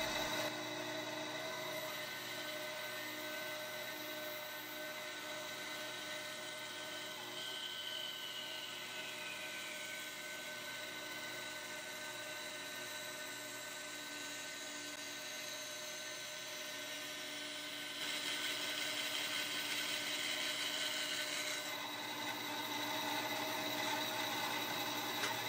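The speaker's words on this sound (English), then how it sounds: "cutting away the excess wood from the heel" A power tool whines steadily as it cuts excess walnut wood from a guitar neck heel, a continuous high-pitched droning that holds for the whole stretch with a slight rise in intensity near the end.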